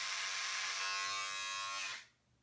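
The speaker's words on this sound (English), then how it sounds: "I've had this buzzer for, I'd say around 4 years, and it's been there for me" An electric shaver about four years old buzzes loudly and steadily up close for two seconds, then switches off and fades to near silence.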